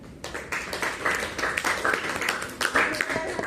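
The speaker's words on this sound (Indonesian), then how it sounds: "Yes, tepuk tangan buat kelas." A class of students applauds together during a school lesson, a steady spread of overlapping claps that rises and falls for several seconds, fairly close and moderately loud.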